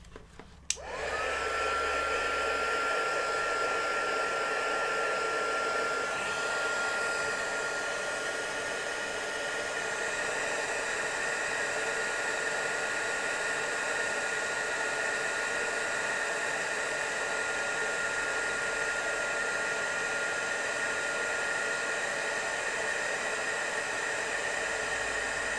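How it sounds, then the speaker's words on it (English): A heat tool blows steadily while heat-setting embossing powder in papercraft, a constant loud whooshing drone that starts abruptly and runs unbroken for about twenty-five seconds, with no talking. "I'm going to take my heat tool now, and I'm just going to heat set this."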